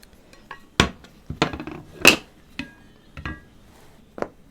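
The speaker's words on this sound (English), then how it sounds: "I'll get all that scraped in." Pork and onion scraped from a pan into a bowl for a 1938 tapioca meat loaf, heard as several separate sharp clinks and scrapes of utensil on dish, spaced irregularly and fairly close.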